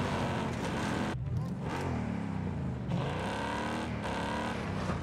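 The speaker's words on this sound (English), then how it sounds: "Obviously, car's still pretty loud." A car engine in the video game Warzone Pacific drones loud and continuous throughout, with shifting revs and brief dips, dominating the mix.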